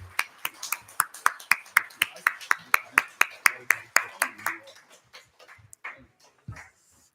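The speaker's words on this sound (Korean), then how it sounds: "하나님께 영광의 박수 올려드립니다." A church congregation at a Sunday worship service claps in brisk unison, a long run of sharp evenly spaced claps that thins out and trails off into scattered last claps.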